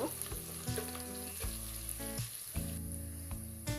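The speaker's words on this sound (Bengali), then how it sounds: "আর আদা রসুনের পেস্টটাকেও আমি একটু ভেজে নেব যাতে কাঁচা গন্ধটা না আসে" Onion frying in a pan with ginger garlic paste for basmati khichuri, a soft close sizzle under repeated stirring and scraping, with tonal knocks from the spoon against the pan, quiet and with no talking.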